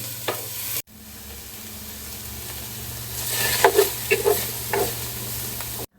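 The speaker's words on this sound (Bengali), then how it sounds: "এই যে সবগুলো পেঁয়াজ কুচি দিয়ে দিলাম, এখন সুন্দর করে আমি নেড়ে দিই।" Chopped onions sizzle in hot oil in a pan while being stirred, a steady frying hiss with clattering scrapes and stirring sounds clustered toward the end.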